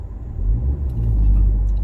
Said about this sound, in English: The car gives a rev and then it pulls forward.